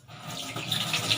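Tap water running steadily into a sink for handwashing, a continuous close splashing hiss that builds slightly over a brief stretch, with no voices.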